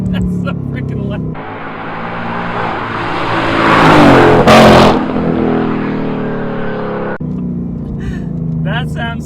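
2018 Mustang GT Performance Pack V8 heard from inside the cabin in track mode, surging into a loud rising roar at high revs that peaks and then cuts back, with people talking over it.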